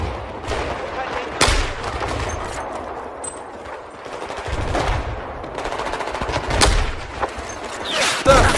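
Repeated bursts of automatic gunfire and scattered single shots in Battlefield 4, loud and fairly close, with a constant stream of combat noise and some voices underneath.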